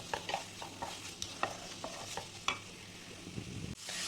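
Onions frying for a Kerala-style crab roast, with a soft steady sizzle under repeated scraping and stirring taps of a spoon in the pan, fairly close and without any talk.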